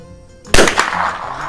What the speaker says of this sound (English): I am shooting some Federal auto match now.